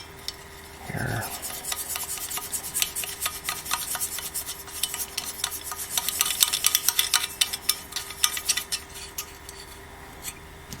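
Rubber feet being screwed onto the legs of a printer stand, giving a run of quick rasping and scraping twists that grow busier toward the middle after a short knock near the start.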